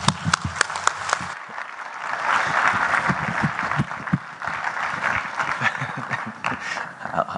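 Audience applause welcoming a keynote speaker to the podium, a few sharp claps swelling into a sustained round of clapping, with laughter and scattered voices as it fades.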